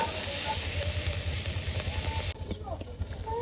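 Small bits frying in oil, a steady loud sizzle and hiss that cuts off abruptly partway through, leaving a quieter crackle.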